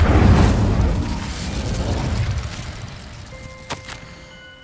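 Incendio fire spell cast in the video game Hogwarts Legacy, a loud whooshing fiery burst that rumbles and fades over a few seconds, followed by a short sharp magical chime.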